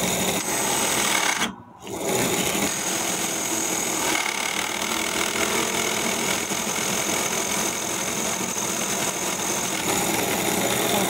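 A Dremel rotary tool cutting gear teeth in soft brass on a Meccano gear-cutting machine: a steady, loud, high-pitched whine with grinding texture, broken by one short pause near the start and then running continuously.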